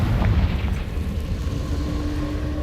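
Confringo blasting spell detonating in Hogwarts Legacy, a loud rumbling blast with a heavy low-end boom that decays over a couple of seconds.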